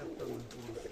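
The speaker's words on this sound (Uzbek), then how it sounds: "Mana kaptarni asallari." Pigeons cooing softly, low throaty coos rising and falling over about a second, fairly faint against a quiet outdoor background.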